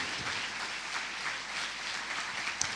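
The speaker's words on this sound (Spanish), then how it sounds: "Den un aplauso al Señor" Applause from a church congregation during a worship message, a diffuse wash of clapping held at moderate level through the whole stretch, with no voices on top.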